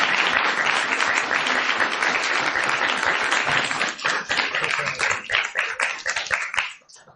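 An audience gives someone speaker another round of dense, sustained applause that stays loud for several seconds, then thins into scattered individual claps before dying away.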